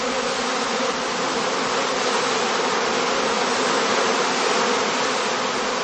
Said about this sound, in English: swarming bees soon form a new cluster again